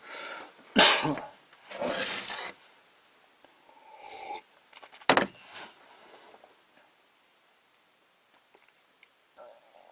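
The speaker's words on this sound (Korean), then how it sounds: "기침이 엄청 방해하네요." Several loud, abrupt coughs, two close together early on, another burst later and a sharp one midway, then quieter rustles and faint noises in an otherwise quiet indoor space, with no speech.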